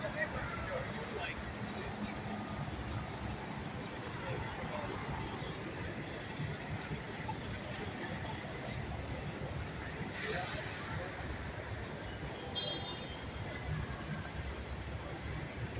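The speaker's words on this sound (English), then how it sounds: "The traffic is solid bumper to bumper" Steady, dense roar of congested traffic on 3rd Avenue in Midtown Manhattan, with trucks, buses and cars packed bumper to bumper, low engine rumble under a distant murmur of street voices and an occasional brief hiss.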